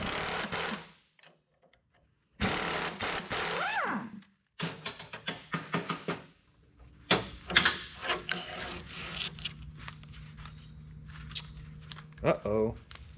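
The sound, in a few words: ratcheting a bolt loose on a Ford F250 spring shackle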